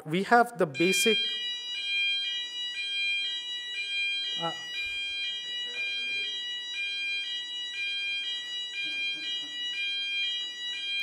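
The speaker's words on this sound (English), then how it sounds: "Yeah, that's a fire alarm." Fire alarm ringing inside a building, a steady electronic tone repeating in a fast even pulse for the whole stretch, loud and close, with people talking briefly at the start.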